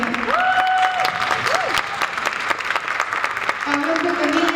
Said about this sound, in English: Let's hear a round of applause for them.